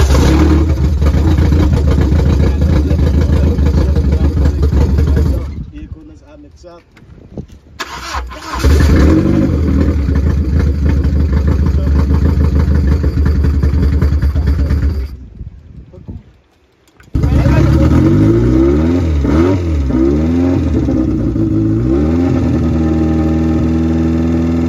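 A car engine with a fuel pressure fault that keeps it from idling steadily cranks and fires repeatedly, revving loudly with uneven surges and cutting out twice into near silence before catching again.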